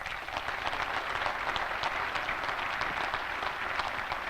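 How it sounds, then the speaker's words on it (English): A room full of people at a national cemetery dedication ceremony clapping together, dense steady applause heard up close that holds evenly for a few seconds, no voices over it. "She deserves a round of applause."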